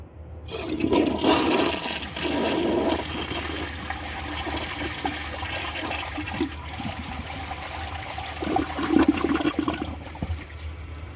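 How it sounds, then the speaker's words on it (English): A 1987 Kilgore toilet refills its tank after a flush, with a steady rush of running water and gurgling that swells slightly near the end. "So let's wait for the tank to fill."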